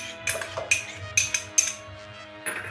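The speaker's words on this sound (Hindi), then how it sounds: "अब हम एक मिक्सी का जार ले लेंगे, उसके अंदर हम अब ये कटे हुए कोकोनट को डाल देंगे" Chopped coconut pieces are dropped into a steel mixer jar in a home kitchen for coconut ice cream, making a series of light metallic clinks and clatters in several short bursts over about two seconds, close and distinct.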